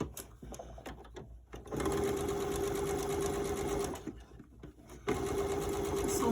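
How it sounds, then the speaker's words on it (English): A sewing machine stitches the bottom-edge seam of a fabric face mask in two quick bursts of rapid whirring, close by, with short pauses between. "We will sew the seam along the bottom edge"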